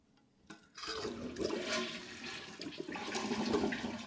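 An American Standard Cadet 3 two-piece toilet with a flapper-style flush lets go with a sudden gurgling rush of water that swirls and drains for several seconds, close and unaccompanied by speech.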